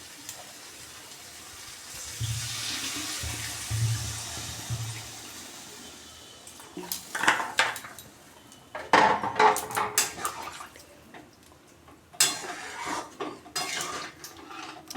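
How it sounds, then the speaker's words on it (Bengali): Water pours into a pot of jackfruit and potato curry, followed by clinking utensils, stirring and scraping against the cookware, close and fairly clear. "এতে জল দিয়ে দেবো"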